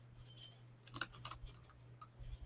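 Light, quiet keystrokes on a computer keyboard tap in an uneven burst of clicks, faint and close against a low background hum.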